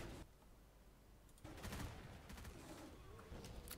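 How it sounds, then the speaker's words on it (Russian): Gunfire heard from below in a S.T.A.L.K.E.R. video game mod, set in an underground area: quiet bursts of distant, muffled shots crackle in clusters through the second half. "Спускаемся вниз, слышим внизу выстрелы"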